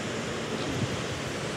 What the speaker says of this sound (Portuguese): estamos passando aqui pela Gisbach, cachoeira que a gente já gravou o vídeo